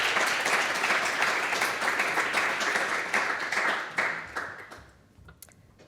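An audience at a young leaders advocacy seminar gives a speaker a warm round of applause. The clapping is dense and steady, then thins out and fades near the end.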